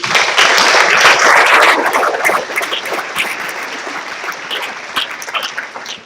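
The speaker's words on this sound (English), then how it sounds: "So let's move on to applause for EBEC Top Group." An audience at a closing ceremony breaks into loud applause that peaks within the first two seconds and then thins into scattered, fading claps.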